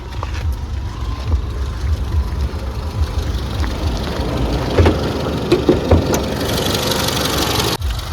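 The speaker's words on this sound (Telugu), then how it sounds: "ఇప్పుడు ఇంజన్ ఆన్లో ఉంది మీరు ఇంజన్ సౌండ్ అయితే వినొచ్చు" A 2015 Tata Zest XM car idles with the bonnet open, its engine giving a steady, close, continuous rumble with faint ticking throughout and no talk.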